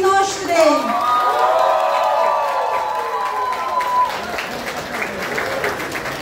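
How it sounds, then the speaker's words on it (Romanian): Audience applause and cheering for graduates at an awards ceremony in a school hall, a broad sustained wash of clapping with whoops, loud and continuous, while a voice carries over the start. "vă rog un rând de aplauze pentru absolvenții noștri!"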